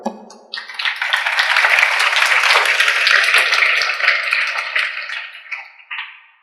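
Audience applause after an emotional Urdu speech, a broad wash of clapping rising quickly and sustained for several seconds before tapering off, with a brief renewed burst near the end.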